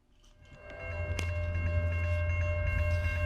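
A train passes nearby with a loud, steady rumble and rattling wheels, with a sustained horn tone above it and a sharp clank partway through.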